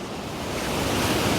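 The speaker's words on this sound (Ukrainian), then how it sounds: "Боже, які хвилі там." Sea waves churn during a storm along an Odesa coastline, a steady wash of surf swelling gradually louder under gusting wind noise, with no speech.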